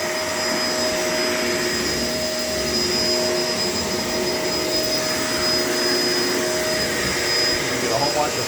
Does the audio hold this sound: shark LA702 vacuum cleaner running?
yes